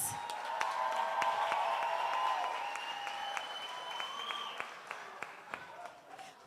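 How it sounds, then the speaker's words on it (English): A warm round of applause for a startup pitch candidate at a business pitch event, dense steady clapping from a crowd that gradually thins and tapers off toward the end. "Let's give them a warm round of applause."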